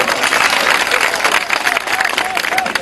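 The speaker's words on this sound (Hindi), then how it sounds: "बिल्कुल ताली मारो भरपूर अंदाज" Loud, dense applause from the audience at a mushaira poetry recital in Jhang, a steady wash of many hands clapping mixed with crowd noise and a few faint whistles throughout.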